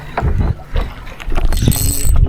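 Strong northeast monsoon wind buffets the camera microphone on a fishing boat at sea, loud low rumbling gusts that drop briefly then surge again, close and harsh.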